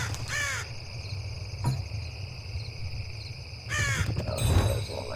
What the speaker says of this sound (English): I don't think these crows scare anything.